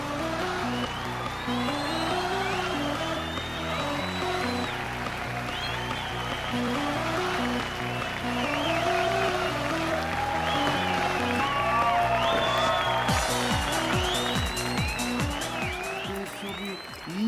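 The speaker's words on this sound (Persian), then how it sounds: "تشویق بفرمایید." An audience applauds as a star actor comes on stage, steady clapping running under loud rhythmic music with melodic synth lines, staying dense and continuous throughout.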